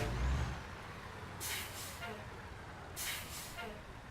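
Two short hissing bursts of air released from a truck's foot brake in American Truck Simulator, spaced about a second and a half apart over a low engine rumble.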